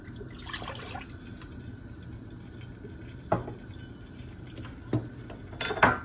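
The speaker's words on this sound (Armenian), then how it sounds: "այստեղ ավելացնում եմ 1 բաժակ ջուր" One cup of water goes into a frying pan holding leftover vegetable oil from frying eggplant, with short liquid splashes and a few pan and utensil clinks over a quiet kitchen background.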